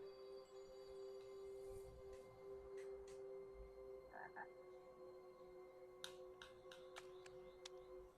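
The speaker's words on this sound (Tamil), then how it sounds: "என்ன தவளை வருது?" A frog croaks repeatedly in short bursts in the video game Lost in Play, against a quiet background with a steady electronic tone and a few sharp clicks.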